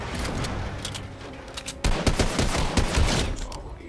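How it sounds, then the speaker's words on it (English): Gunfire from a charge shotgun and other weapons in a Fortnite match: a dense, loud burst of overlapping shots and booms, with a sharper cluster of rapid blasts near the end, over continuous game ambience. "When I use my charge shotgun and I release, sometimes it doesn't work."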